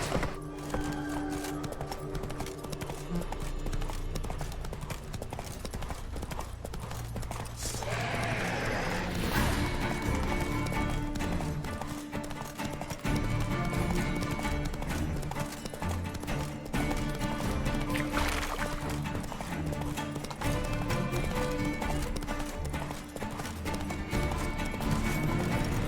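In The Witcher 3: Wild Hunt, the horse Roach gallops with steady, rapid hoofbeats drumming throughout, under a busy bed of game music and ambience, with a brief rush of noise near the middle.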